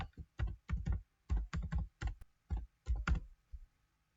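Rapid clusters of computer keyboard keystrokes as an email address is entered, close and crisp, in uneven bursts with short pauses and no talking.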